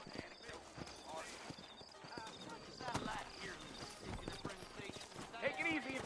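Horse hooves clip-clop steadily on a town street in the Western video game Red Dead Redemption, a close, rhythmic clatter running under a voice and a few whinnies.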